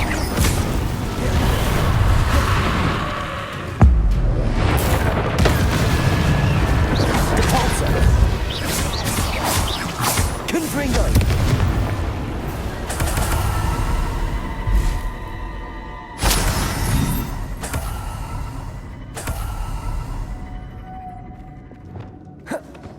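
Confringo and Depulso spells blasting in a Hogwarts Legacy fight, loud whooshing bursts, crashes and booms over constant battle clamor, with grunts and gasps and a sharp impact near the start and again midway.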